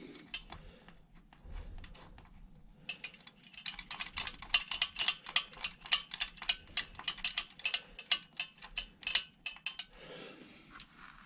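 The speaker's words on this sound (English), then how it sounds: "Right, so 3/4 socket and ratchet, and off we go." A ratchet with a 3/4 socket tightening pinch nuts while fitting a centre stand to a Triumph Bonneville T140V motorcycle: rapid, close metallic clicking in quick repeated strokes, fairly quiet, with a few pauses.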